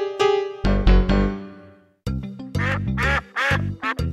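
A goose in a children's folk tale honks in loud, nasal bursts: one short call, a longer drawn-out honk, a pause, then a rapid run of several honks close up.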